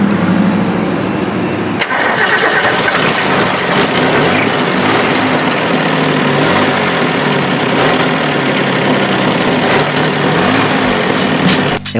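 A car engine with a failed alternator cranks and runs roughly, loud and close, a continuous rattling mechanical drone that barely changes over the whole stretch after a brief starting burst.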